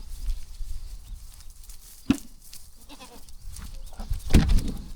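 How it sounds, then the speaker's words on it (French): Impatient farm goats waiting to be fed, with a few bleats standing out over a busy low rumble, one sharp call near the middle and a louder burst of bleating toward the end. "On va nourrir les chèvres."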